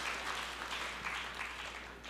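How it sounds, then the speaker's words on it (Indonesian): A church congregation claps loudly during a sermon, a dense and continuous wash of applause from many hands that fills the whole moment. "Berikan tepuk tangan yang meriah buat Tuhan."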